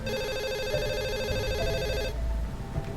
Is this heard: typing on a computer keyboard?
no